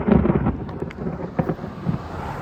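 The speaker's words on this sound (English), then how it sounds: "There was just a flash of lightning hit the top of that hill over there." Thunder after a lightning strike on a nearby hilltop, a rolling low rumble with a few sharper cracks amid wind noise on the microphone.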